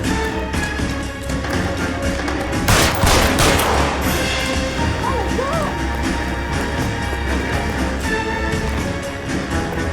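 Gunfire in L.A. Noire erupts in a dense burst of shots near the three-second mark, loud and close, over a busy layer of game noise and music.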